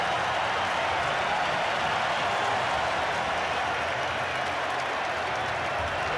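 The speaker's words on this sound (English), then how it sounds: "Magnificent roar goes up in the stadium." Large stadium crowd at a Rugby World Cup match roaring and applauding in a steady, dense wall of cheering and clapping that fills the whole stretch.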